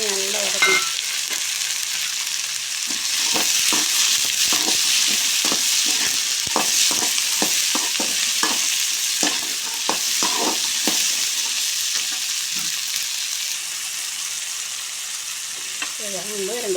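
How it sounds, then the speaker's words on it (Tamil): Turkey berries (sundakai) sauté in a pan with a constant, close sizzle, broken by repeated scraping strokes of a stirring spoon, with a voice briefly at the start and end. "இதை போட்டு இதையும் நல்லா வதக்கணும்."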